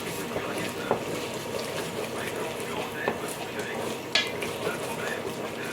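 A spoon scraping and stirring a jerk chicken mixture in a pot, soft irregular scrapes with occasional light clinks against the metal, close and fairly quiet over a low background hum.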